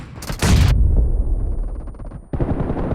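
Loud, close gunfire in the mobile shooter PUBG Mobile: a dense opening burst of shots, a quieter stretch of distant game noise, then another burst of firing.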